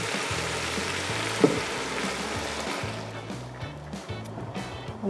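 Mussels hitting a hot pan of marinara mix with blended herbs and cream, a steady close sizzle and hiss with low bubbling and a soft clatter of shells being stirred.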